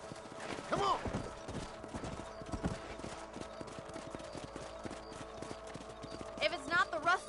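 A horse gallops in a Western video game, with a steady rhythm of hooves running under game music and a voice talking, a brief call near the start and more voices near the end.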